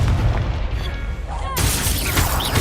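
Confringo explosion spell cast in Hogwarts Legacy during a hard-mode duel, a sudden burst of booming blast noise after a moment of whooshing spell effects, with voices and battle sounds around it.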